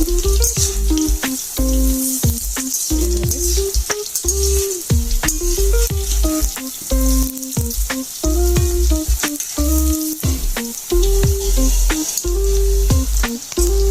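Cabbage and lentil fritters (piyaju) sizzle steadily in hot oil, a loud continuous fry with occasional spatter and a repeating musical tone over it, with no talking.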